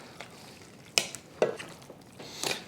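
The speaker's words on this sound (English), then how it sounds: "Give it a stir." Meat being stirred in barbecue sauce, with a few soft wet scrapes and clinks of the spoon against the pot, quiet and close with pauses between strokes.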